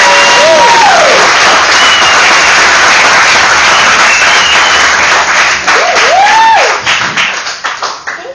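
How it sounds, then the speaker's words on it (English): A comedy club audience applauds an introduced comedian with loud, energetic clapping and some cheering, sustained for several seconds before thinning out, while a voice briefly whoops over it. "I want a very energetic, loving, clapping round of applause for one Abby Feldman, everybody."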